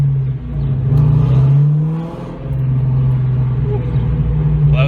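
A loud, steady exhaust roar from a 2004 Ford Mustang Mach 1 engine, droning low and continuous with slight rises as the throttle shifts.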